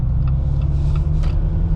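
A Jeep Wrangler JL riding on 37-inch Nitto Trail Grappler tires pulls away moderately with traffic, producing a constant deep engine and tire rumble with a few faint higher whines riding on top, no voices.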